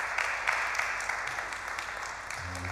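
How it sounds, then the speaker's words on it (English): An audience at an exhibition event applauds, a dense steady wash of many hands clapping at moderate distance, with a faint low voice near the end. "We need to really clap hands for them and thank them for this time."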